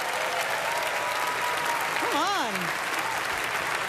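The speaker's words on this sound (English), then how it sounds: "Give him a round of applause." A crowd applauds Donald Trump at a 2011 BBQ roast event, steady, dense clapping filling the whole stretch, with a short shouted voice rising over it midway.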